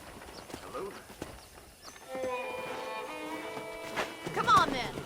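Steady clip-clop of horse hooves under speech, with a whinny mixed in amid a busy ambient background, from the video game Red Dead Redemption on PS5.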